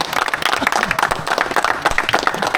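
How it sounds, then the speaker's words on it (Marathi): Applause from a crowd for the umpires at a local cricket premier league final, a dense, steady clapping that runs throughout at close range with a few voices faintly mixed in. "एकदा अंपायर लोकांसाठी पण टाळ्या झाला पाहिजे"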